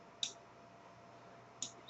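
Computer mouse double-clicking on fields in SAP software, two brief isolated click bursts about 1.4 seconds apart, quiet and close against a low background hum.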